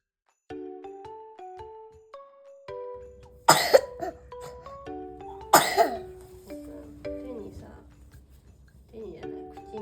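A person coughs twice in short, loud bursts indoors, over a gentle chiming melody of soft tonal notes that plays throughout.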